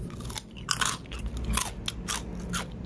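Crunchy fried egg snack bitten and chewed up close, a run of sharp crackling crunches repeating through the moment, loud and with no talk over them.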